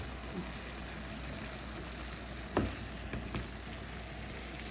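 Onions fry in a pan for a liver dish, a faint steady sizzle with a couple of soft clinks or stirring knocks partway through, no voices.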